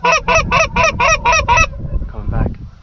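Geese honking during a goose hunt in Iowa, seven loud, close honks in quick rhythmic succession, followed by fainter calls and low rumbling.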